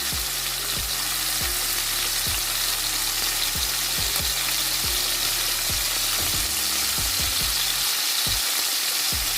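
Chicken tawa boti pieces fry loudly on a hot tawa just after being flipped, a dense, steady close sizzle with faint repeated scraping knocks and no talk.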